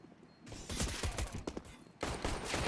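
Counter-Strike gunfire crackles in a quick run of sharp shots, including USP pistol fire, with a short pause before another burst of shots.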